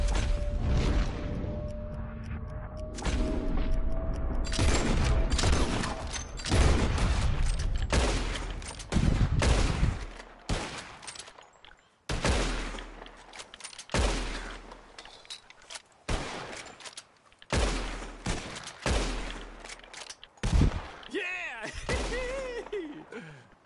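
Rapid bursts of gunfire fill a shooting contest in the video game Red Dead Redemption 2, loud volleys and single shots repeating for over twenty seconds, with game character voices speaking between the shots.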